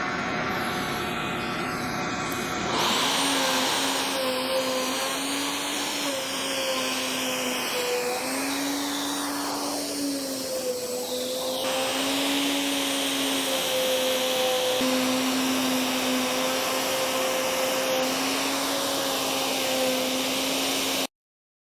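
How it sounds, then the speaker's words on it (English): A handheld Wen wood router whines loudly alongside a shop dust collection vacuum, a sustained high-pitched roar with shifting pitch as the bit cuts, steady and close for the whole stretch. "Dust collection worked great."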